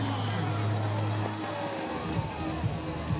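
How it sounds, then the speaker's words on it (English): A rugby crowd at the 2016 Birmingham Lions vs Bath Killer Bees match cheers a try, a broad, sustained roar of distant voices with a commentator talking over it. "As you can hear the crowd celebrating that one, finally."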